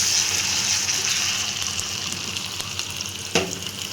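A tempering of curry leaves and coriander sizzles in hot oil for a vaalapu kootu, a loud frying hiss that softens slightly before a sharp splash as it hits the dish.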